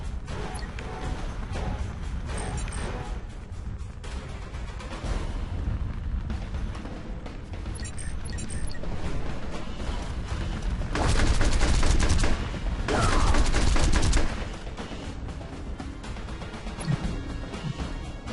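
Explosive impacts and gunfire strike a rocket launcher unit in the Field Commander strategy game, a steady barrage of crashing blasts that swells into two louder bursts near the end.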